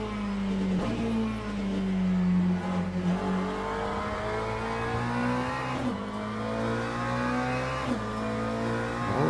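A race car engine in Le Mans Ultimate revs and drones continuously, its pitch climbing and dropping through gear shifts, loud and close with no talking.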